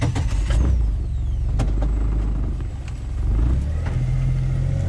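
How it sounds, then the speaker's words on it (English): A buggy's engine catching and settling into a rough, close idle, then pulling away with a rising mid-pitched drone, out in the woods, with no talk over it. "so fire up the buggy here and"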